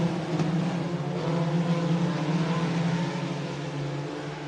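Modified and sport compact race cars at Buena Vista Raceway under green flag, a dense steady drone of engines droning together at moderate distance with no talk over it.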